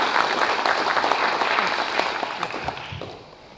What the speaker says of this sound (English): Please join in giving them all a heartfelt round of applause.